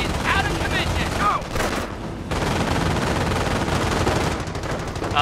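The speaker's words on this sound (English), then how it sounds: "Firing on the enemy!" Loud, dense gunfire from the World War II strategy game Company of Heroes: rapid machine-gun bursts and rifle shots overlap in a continuous barrage, with brief lulls and soldiers' voices calling out over it.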